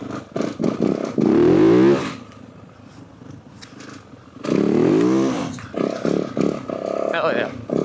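A Yamaha WR450F 450 dirt bike revs in two loud, rising bursts on a dirt track, with quieter idling and rumbling between them and a rider talking at times.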